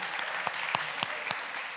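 Audience applause at a live evening event at the Serpentine, a moderately quiet, steady patter of clapping with a few sharper individual claps standing out, no voices over it.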